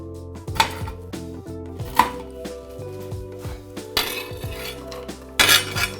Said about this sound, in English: we take an onion. So we're going to use the mezzaluna and just chop away